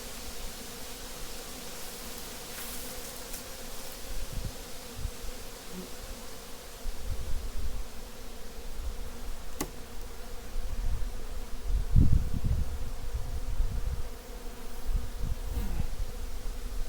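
A steady buzz of honeybees at an open hive hums throughout, with occasional low thumps and handling noises nearby.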